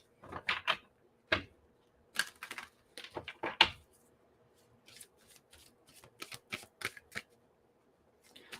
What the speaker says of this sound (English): what I want to do is pull the Heal Yourself reading cards out